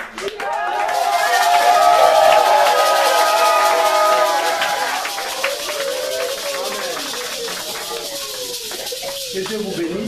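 Church congregation erupting in joyful shouting and clapping, a loud swell of cheering voices that peaks early and slowly fades into continued scattered claps and calls.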